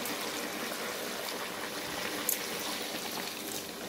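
Water, about half a litre, poured steadily into a pot of Tashkent plov, giving a soft continuous splashing and trickling that is fairly quiet and heard alone.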